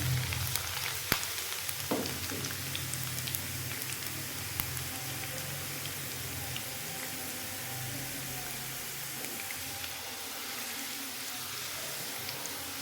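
Chopped garlic frying in a pan while dal is cooked sizzles in a steady, crackling hiss. It holds even and close for the whole stretch, with a few faint knocks early on.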